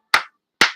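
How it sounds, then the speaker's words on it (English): Two short, sharp bursts of clapping in a television sports-show setting, separated by a brief silence, each fading quickly. "Let's give Nick Mantis of WLNS TV6 a little applause"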